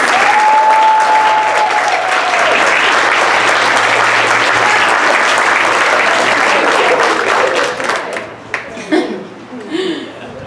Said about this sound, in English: so we can give you a big round of applause